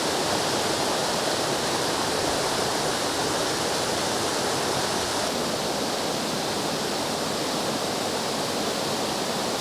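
Tiger's Clough waterfall on the River Douglas at Rivington, running high over slippery rocks, roars in a steady, dense rush of water close by that never lets up.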